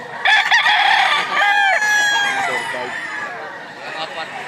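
Several gamecocks crow loudly and close together at a fighting-rooster sale in Lipa, Batangas, their overlapping cock-a-doodle-doos spread through the whole clip amid market chatter and voices.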